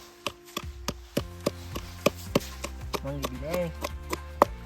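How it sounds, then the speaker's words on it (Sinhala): Kochchi chilies are pounded by hand for sambol outdoors in Kabiliththa, Sri Lanka, giving sharp, irregular wooden knocks about two a second, close and crisp, with a voice speaking over part of it. "සම්බෝලයක් කරනවා. කොච්චි කොටනවා."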